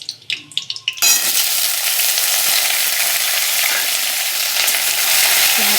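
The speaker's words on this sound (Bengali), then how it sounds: "পেঁয়াজটাকে দিয়ে পেঁয়াজটাকে লাল করব।" Onions dropped into hot oil tempered with bay leaf and cloves burst into a loud, dense, continuous sizzle after a second of clinking, close and steady throughout.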